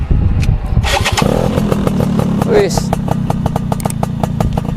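A fully restored Yamaha Sigma two-stroke motorcycle with its original engine starts up loud and close, then settles into a rapid, crackling two-stroke idle with regular popping pulses, while someone talks briefly near the start.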